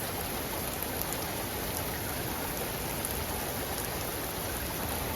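Heavy rain falls during a windless thunderstorm, a dense, constant hiss of downpour that stays even and fills the whole scene with no talking.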